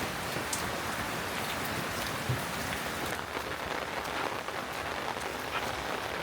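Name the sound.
heavy rain falling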